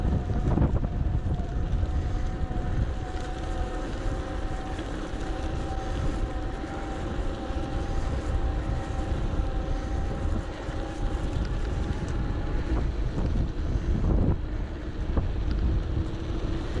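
Strong wind buffets the microphone during an electric bike ride toward the coast, a loud, steady rushing roar with low rumble and gusty surges throughout, no voices.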